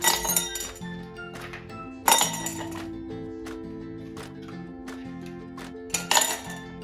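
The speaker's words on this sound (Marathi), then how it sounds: "त्याच्यामध्ये आता आपण बर्फाचे खडे टाकायचे।" Ice cubes dropped into a glass of thick muskmelon juice clink sharply in three bright bursts, each followed by ringing glassy chimes and rattling cubes settling, close and clear with no talk.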